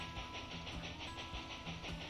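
Train rolling along in the Railroad Tycoon 3 game, a steady rumbling run with rhythmic clickety-clack pulses repeating about every half second, moderately loud and continuous with no voices.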